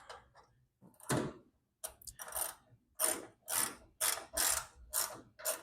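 Rhythmic ratchet clicks from a hand tool screwing a small part into a 1968 Volkswagen Beetle during heater tube and hood work, starting with a few scattered taps and settling into about six evenly spaced, close ratcheting bursts, no talking.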